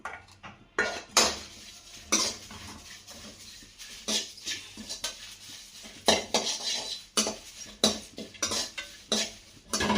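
Spices such as turmeric powder and asafoetida being tipped and spooned into a mixer grinder jar, heard as a series of sharp metallic clinks and clatters with quiet pauses between them.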